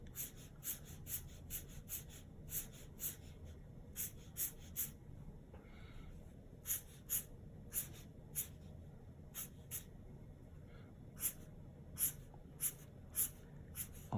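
Marker strokes on paper while shading a crossover SUV sketch, quiet rhythmic squeaky swipes in short bursts over faint background hiss.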